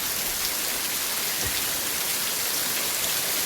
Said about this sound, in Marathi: काय खतरनाक असा पाऊस पडतोय